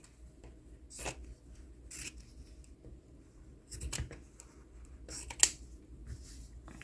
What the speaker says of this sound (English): So I'm just going to cut the top part off.